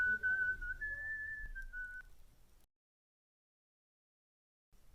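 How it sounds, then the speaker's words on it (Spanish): A person whistles a short, clear melodic phrase, fairly close, then it stops abruptly into silence. "un travieso castaño silbaba satisfecho y se alejaba rumbo a un lugar desconocido"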